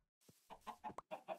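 Chickens clucking in the Minecraft video game, several short bursts of clucks in an uneven rhythm, near and fairly quiet, with no talk.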